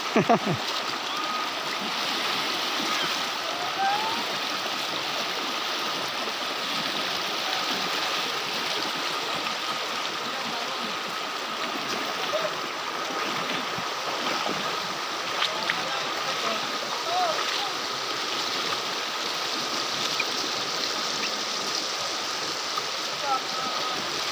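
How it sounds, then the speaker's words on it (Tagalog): Strong rushing water at Secret Falls in Doña Remedios Trinidad, a steady, dense roar that stays close and loud through the whole stretch without pause. "Medyo malakas yung alon."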